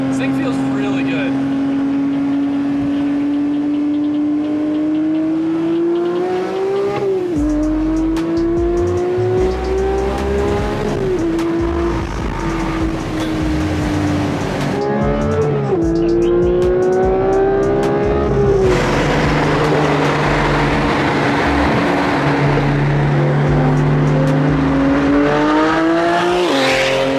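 Porsche 992 GT3 fitted with a titanium exhaust drives past loud and close, its engine note climbing and shifting through repeated gear changes over about half a minute, while people talk throughout.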